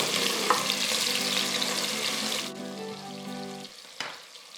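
Sliced onions fry in hot oil in a pressure cooker, a loud, steady, dense sizzle that drops sharply halfway through to a quieter crackle, with a single knock near the end.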